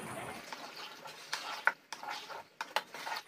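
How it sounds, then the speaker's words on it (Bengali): Veg Manchurian balls going into boiling gravy in a pan, heard as quiet clinks of a spoon against metal and soft stirring scrapes, with a few sharper taps, faint and close. "গ্রেভিটা ফুটে গেছে, এবার দিয়ে দেবো বলগুলো, এর উপর দিয়ে দেবো একটু পেঁয়াজ পাতা।"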